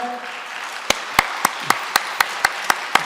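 Sharp claps ring out one by one at a steady pace over a low murmur, about nine distinct hand claps rather than a full crowd roar, at a church Sunday service honoring award-winning students.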